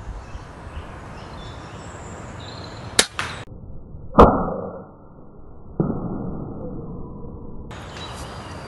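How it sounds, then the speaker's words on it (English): An air rifle fires a sharp, single crack at a squirrel outdoors, followed moments later by a second short impact, with quiet ambience around. "I've mounted the gun, and as soon as the squirrel presents a shot, I'm going to take it."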